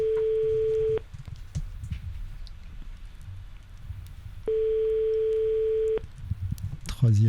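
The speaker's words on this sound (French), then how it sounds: "Troisième sonnerie." Phone ringback tone during a live call, heard twice as long steady beeps of about a second and a half each, separated by a pause filled with low room noise, with a voice starting right at the end.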